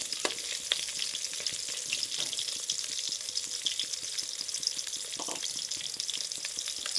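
Chitol fish muitha balls sizzle and crackle steadily as they fry in hot oil over medium-low heat, a close, continuous spitting with a few brief clinks of a utensil, no voices.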